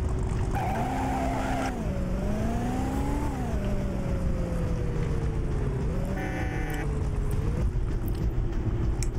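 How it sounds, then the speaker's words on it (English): Deep, steady V8-like engine roar of a car in Driver 2 on PS1, with gear shifts and revs rising and falling, plus a brief tire squeal, constant and loud throughout. "this car sounds like a big old V8 or something"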